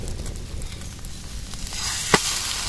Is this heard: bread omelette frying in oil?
yes